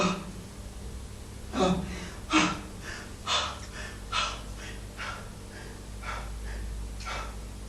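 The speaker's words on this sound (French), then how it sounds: "Je suis soufflé. J'ai du mal à respirer." A winded man breathes heavily and gasps for air: several loud, ragged breaths and gasps at uneven intervals, close up, easing into softer panting toward the end.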